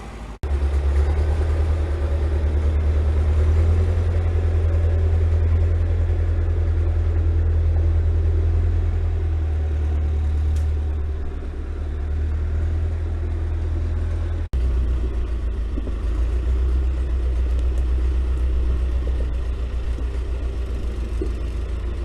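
A snow truck's engine rumbles steadily at idle, a deep continuous low drone that holds for the whole stretch, close and loud with no talking.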